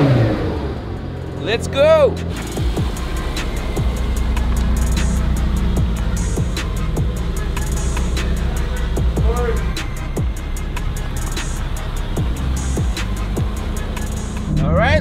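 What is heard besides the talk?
Mercedes-AMG GT Black Series V8 bi-turbo car driving off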